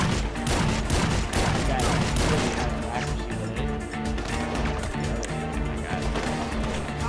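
Rapid bursts of gunfire from a biker-themed video game crackle and thud in dense overlapping volleys, loud and busy, with game audio layered underneath.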